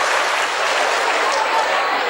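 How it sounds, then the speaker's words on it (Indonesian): A crowd claps steadily, a dense, even wash of applause that holds at the same level throughout. "Tepuk tangan dulu."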